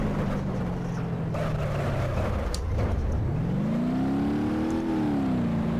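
A car driven in the BeamNG.drive game on its way to an island airfield, its engine droning steadily and rising and falling in pitch as it dips then revs back up, loud and close throughout.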